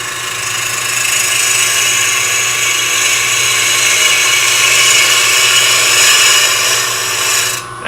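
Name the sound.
wood lathe turning with a bowl gouge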